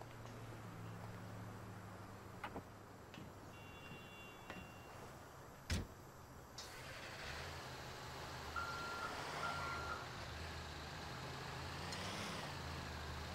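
Steady reversing beeps from a truck in Grand Theft Auto 5, faint and repeated over a constant engine hum, with a sharp door-like thud partway through.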